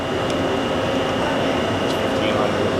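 A Hardinge Conquest SGET-42SP CNC lathe spindle turns at 500 RPM, giving a steady, even whir with a thin high whine running through it, continuous and close.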